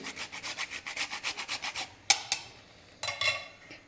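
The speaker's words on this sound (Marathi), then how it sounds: "पुरणाच्या चाळणीवर आता आपण जायफळ खिसून घेऊया" Nutmeg rubbed against a grater over a sieve of cooked puran for puran poli, giving about a dozen quick, even rasping strokes up close, followed by a few sharp knocks and a shorter scrape.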